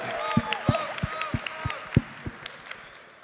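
Scattered clapping from a panel audience at an NFT conference, a handful of sharp distinct claps over murmured voices and background room noise, fairly sparse and brief.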